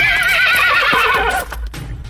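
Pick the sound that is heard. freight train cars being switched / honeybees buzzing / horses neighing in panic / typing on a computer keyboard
horses neighing in panic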